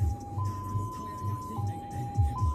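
Ambulance siren in high-low mode, a steady tone stepping slowly between two close pitches over a low rumbling engine and background noise, moderately loud.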